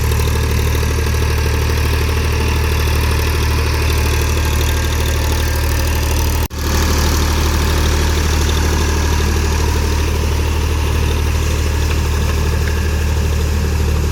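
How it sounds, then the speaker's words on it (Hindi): A diesel tractor engine runs steadily while the tractor puddles a flooded paddy field, a loud continuous low drone with a constant idle-like hum and one brief dropout midway, no voices. "देखिए ट्रैक्टर बहुत ही अच्छे से लेवा कर रहा है खेत में और ट्रैक्टर का चक्का भी बहुत ही अच्छे से चल रहा है।"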